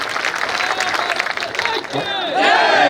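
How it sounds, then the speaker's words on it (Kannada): A large crowd at a farmers' protest in Belagavi claps and cheers, a steady mass of applause mixed with shouting voices that swells louder toward the end. "ಇನ್ನೊಮ್ಮೆ ಜೋರಾಗಿ ಚಪ್ಪಾಳೆ ಹೊಡೀರಿ"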